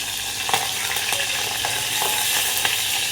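Garlic and curry leaves frying in hot oil in a pan, giving a steady close sizzle with small crackling pops throughout and no voices.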